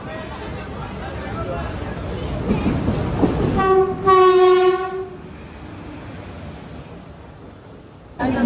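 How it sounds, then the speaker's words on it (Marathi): A train pulls into a station during a pilgrimage trip to Jejuri, its rumble building under crowd chatter before a loud, sustained horn blast, then a steady rolling drone beneath the busy platform noise. "आपली ट्रेन आलेली आहे, डायरेक्ट आता जाऊ ट्रेनमध्ये."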